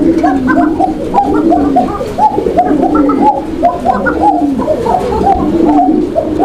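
A white Arabian koka pigeon coos in repeated, rhythmic rolling phrases, close and steady throughout, with a low hum of background noise beneath.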